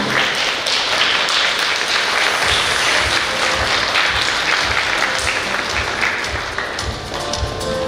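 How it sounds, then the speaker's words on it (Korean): An audience at the 2026 Suseong International Biennale pre-biennale forum claps loudly and steadily to welcome the organizing committee chairman, an unbroken wash of applause lasting several seconds. "위원장님을 여러분의 큰 박수와 함께 모시겠습니다."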